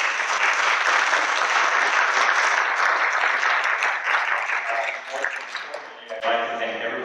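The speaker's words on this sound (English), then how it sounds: "I would first like to thank and give a round of applause for our 3 wonderful panelists" Steady applause from a public forum audience for the panelists, broad continuous clapping that gradually thins out, with voices emerging near the end.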